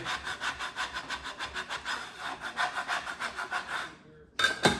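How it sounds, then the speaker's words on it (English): Folded homemade pasta dough made with olive oil being scraped off a work surface, a run of rhythmic rasping strokes, close and steady, then a brief pause and a final sharper scrape. "And I should probably scrape underneath"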